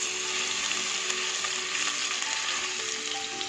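Garlic cloves frying in a pan for an Indo-Chinese dish, a steady close-up sizzle with a bright crackling hiss that runs unbroken through the whole stretch, no voices.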